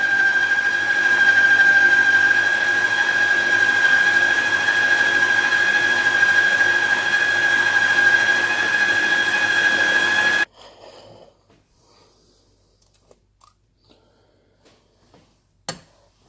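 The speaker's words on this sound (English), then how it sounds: "And we take it all to the stand mixer and we mix everything through." A stand mixer whirs steadily as it mixes finely chopped ingredients, including spring onion, a loud, even motor drone for about ten seconds before it cuts off, followed by a few faint clicks and one sharp knock near the end.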